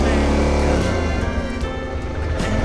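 Motorcycle engine revving hard while the rear wheel is stuck on something, a loud close sustained drone that rises and strains, with nothing else breaking through.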